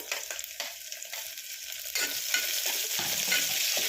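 Onions and green chillies fry in oil for vangibath while being stirred, a close, crackling sizzle broken by repeated scraping spoon strokes that grow busier and louder in the second half.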